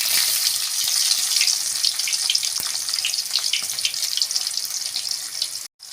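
Onions sautéing in oil for a small-leaf greens and lentil dish give a steady, loud broadband sizzle with faint crackles, running continuously and alone until a brief drop near the end.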